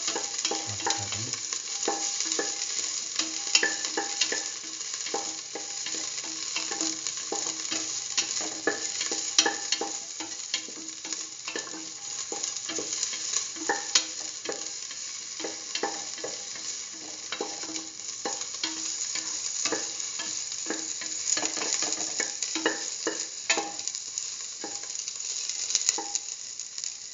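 Shallots frying in a pan with salt and curry powder for a Hausa potato and chayote stew, a steady loud sizzle broken by frequent scraping stirs throughout, no voices.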